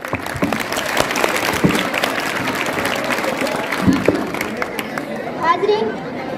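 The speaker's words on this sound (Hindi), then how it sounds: "मैं बच्चों से गुजारिश करती हूँ कि वो तालियां बजाएं" Audience applause at a school annual function, a loud sustained wash of clapping from many hands with chatter and children's voices running through it.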